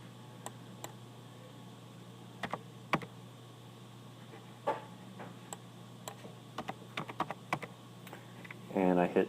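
Keys on a computer keyboard are tapped sparsely, single clicks and short bursts spread through a quiet room, with a denser clatter near the end, while someone speaks quietly in between.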